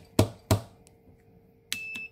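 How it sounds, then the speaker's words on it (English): A faulty lawn mower starter solenoid is struck twice on a workbench, two sharp knocks close together, followed by a brief electrical beep from a circuit tester. "So I bet if I take and hit it on the bench a few times."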